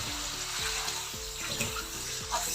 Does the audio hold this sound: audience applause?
no